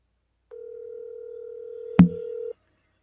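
A telephone dial tone plays steadily over a phone on speaker for about two seconds, a single loud click or knock breaking in partway through before the tone cuts off, with no talk.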